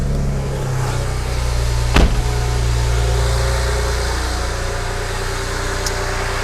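A BMW E90 sedan with a low-pressure fuel sensor and pump problem cranks and starts with a brief loud burst, then settles into a steady, close idle rumble that continues alone.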